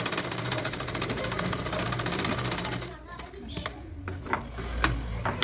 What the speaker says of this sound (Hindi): हमने लिया और उसको धीरे धीरे सिलाई लगाएंगे